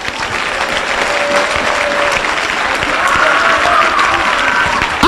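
A church congregation applauds loudly and continuously, a dense crowd clapping that swells slightly toward the end, with voices mixed in beneath.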